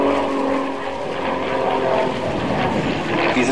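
A propeller aircraft performing an aerobatic dive at an air show, its engine roaring loud and steady with a rising, wavering drone as it falls and recovers.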